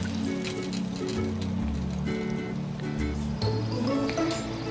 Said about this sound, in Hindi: तो पानी अच्छे से बॉईल हो गया है